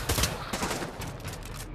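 Dense automatic gunfire from the virtual reality shooter Pavlov crackles in a continuous, loud burst that fills the whole moment.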